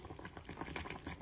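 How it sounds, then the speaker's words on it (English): Orange slices and ginger bubbling in a pot of water as it comes to a boil, a steady close simmering patter with scattered pops and no talking. "So first I bring them up to a boil"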